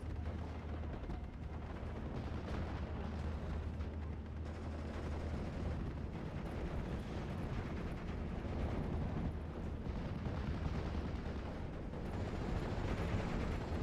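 Pack howitzer artillery fire in a WWII strategy video game, a dense rumbling barrage of booms and crackling blasts rolling on continuously at a distance, with no clear gaps between impacts.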